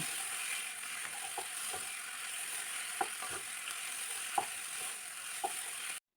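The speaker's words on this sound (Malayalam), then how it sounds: "കുരുമുളക് പൊടി ചേർത്ത് കൊടുത്ത ശേഷം നല്ല രീതിയിൽ വീണ്ടും ഇളക്കി കൊടുക്കണം" Beef fry with pepper powder sizzles softly in a pan while it is stirred, a steady hiss broken by a few light scrapes and taps of the spoon, with no one talking.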